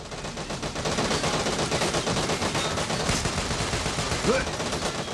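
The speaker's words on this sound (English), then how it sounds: "Who the hell's shooting at them?" Rapid bursts of automatic gunfire from the video game Devil's Third rattle continuously at close range, a dense, loud, unbroken barrage.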